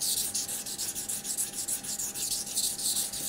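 A Buck knife blade scrapes across a 1000 grit waterstone in steady, rhythmic back-and-forth strokes, close and distinct, with no talking.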